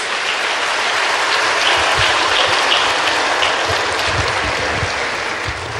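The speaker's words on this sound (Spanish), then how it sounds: "Pues démosles un aplauso a San Miguel y a los nueve coros." Applause from a congregation at a Catholic prayer gathering honoring Saint Michael and the nine angelic choirs, a steady dense wash of clapping that stays even and moderately loud throughout, with no voices over it.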